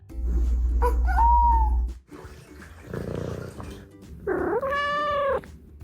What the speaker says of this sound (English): That drawn-out meow?